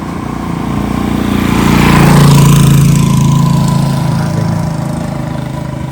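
A motorized tricycle engine-brakes down a steep road near Bitbit River in Norzagaray, Bulacan, its steady motor drone swelling as it passes close and then easing off, with no voices.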